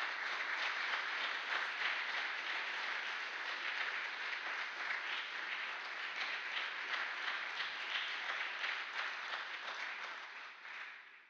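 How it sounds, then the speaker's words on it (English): An audience at a corporate dinner at the Harvard Club in New York breaks into sustained, dense applause, an even wash of many hands clapping that holds steady at moderate distance before tapering off at the end. "Let's give them a round of applause."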